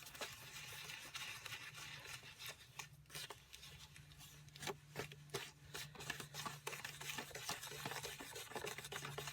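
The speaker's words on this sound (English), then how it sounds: "So, we're going to stir that up." Powder from a Japanese DIY candy kit is stirred in a small tray with quick, faint scraping and rubbing strokes in an uneven rhythm, quiet and close.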